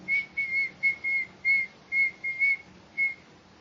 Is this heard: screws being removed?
no